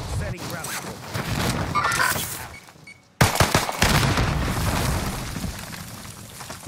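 Gunfire in the online shooter Warzone, sharp bursts of shots and impacts in quick succession, cutting out briefly before resuming loud and busy, with players talking over the action.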